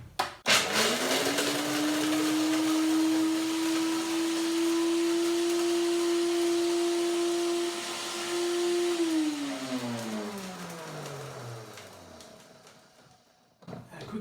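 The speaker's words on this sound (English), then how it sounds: "You have the nuts in a dry blender, dry nuts in a dry blender, just a handful, and blend it for a couple of seconds to make a flour" A blender whirs for about nine seconds as it grinds a handful of dry hazelnuts into flour, a loud steady motor whine, then winds down in pitch, with clunks at start and finish.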